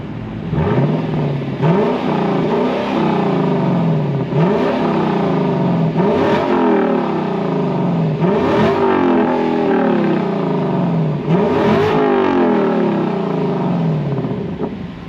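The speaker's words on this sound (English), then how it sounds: "So I'm going to cut to a clip of me revving the car up" A throaty 2022 Lexus LC500 V8 engine revs hard again and again, each rise climbing to a roar before dropping back, loud and close, with no voices.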